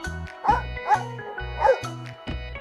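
A dog barks in a quick series of about six sharp, evenly spaced woofs, close and clear, with no one speaking.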